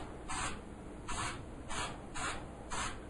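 Spray paint hisses onto clay pots in five short, evenly spaced bursts, each about a quarter second long, close and fairly quiet with brief pauses between.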